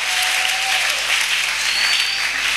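Steady, dense applause from a church congregation praising the Lord during a French-language worship service, sustained and even at close range with no voices on top.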